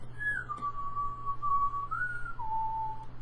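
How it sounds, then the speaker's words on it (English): A person whistles a short, wavering melody of a few sustained notes that slide between pitches, close and clear over a faint low background hum, with no talking. "See, you can whistle."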